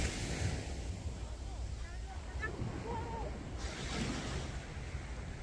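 Ocean waves washing steadily onto the sand at Haeundae beach in winter, a moderate continuous surf wash with some wind, while a person talks over it.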